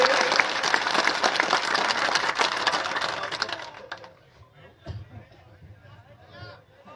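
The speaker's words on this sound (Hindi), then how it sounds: "जोरदार तालियों के साथ तमाम कार्यकर्ता साथी स्वागत करेंगे" A crowd at an Indian political rally claps loudly and densely for a few seconds in welcome, then the applause breaks off, leaving scattered faint noises and low background murmur.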